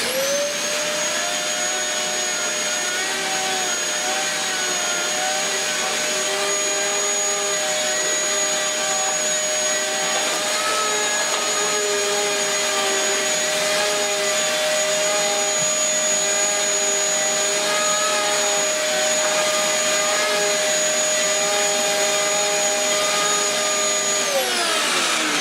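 Dyson DC11 vacuum cleaner running on a carpet entrance mat, giving a steady, loud, high motor whine that holds unbroken for the whole stretch with no talking.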